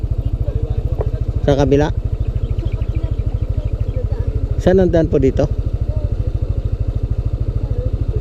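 A motorcycle engine runs with a loud, steady, throbbing drone on a road bypass between Angono and Binangonan, Rizal. People talk briefly twice over the engine noise.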